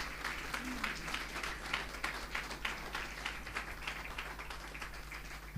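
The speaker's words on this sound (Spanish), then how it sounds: "Eso merece un aplauso al Señor." A church congregation applauds the Lord during a sermon, a faint, sustained patter of many hands clapping over a constant low hum, heard from some distance.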